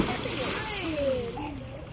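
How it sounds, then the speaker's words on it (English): Splash of a child jumping from a diving board into a swimming pool, a loud watery burst with slosh and spray continuing, while children's voices chatter and shout nearby. "Jump in the water, Natalie."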